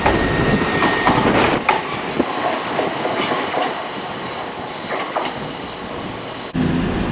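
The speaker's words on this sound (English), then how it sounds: "Just pulled in is a service to Manchester Piccadilly, operated by Transpennine Express's Class 802s." Transpennine Express Class 802 train pulling into Leeds station, with steady rolling rumble, rail clatter and squealing brakes close by, then a sharp change near the end as the train settles at the platform.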